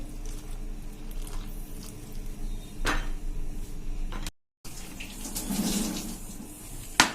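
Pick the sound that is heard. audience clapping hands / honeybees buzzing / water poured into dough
water poured into dough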